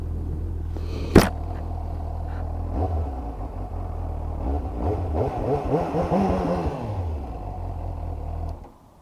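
A 2019 Suzuki GSX-S750 four-cylinder 750cc motorcycle on a test ride idles with a low steady rumble, then revs up and down in rising and falling sweeps before cutting off, with a sharp knock near the start.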